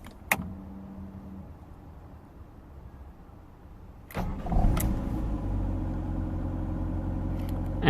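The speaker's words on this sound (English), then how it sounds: "we're going to start the engine" A 1998 Ford Fiesta 1.3L cranks with a short starter whir, then catches and settles into a steady, fairly loud idle that continues to the end, after a quiet stretch with a faint click near the start.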